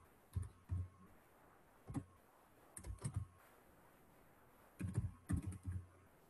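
Quiet clicks of typing on a computer keyboard while entering QBasic code, coming in short scattered bursts of a few keystrokes separated by pauses, close and soft with no talk.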